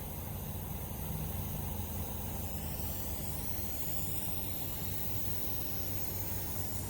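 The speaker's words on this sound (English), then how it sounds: "Something's leaking. I hear it in there." A steady, even air hiss from a leak in a homemade vacuum oil extractor runs unbroken and fairly faint for the whole stretch, with no voices over it.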